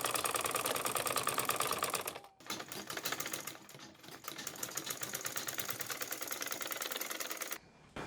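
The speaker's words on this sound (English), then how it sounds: "Then I'll go to my sewing machine and join it. Now I'll just take maybe like 1/4, sew it straight and to this edge." Sewing machine stitching the fabric band onto a pleated turban cap, a fast steady mechanical clatter running almost nonstop, with a brief slowdown partway through and a pause near the end.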